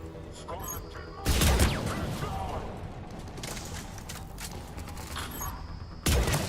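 Video game gunfire from a headshot through smoke, with a loud sharp blast standing out near the middle and another burst at the end, over busy game noise, with a voice talking.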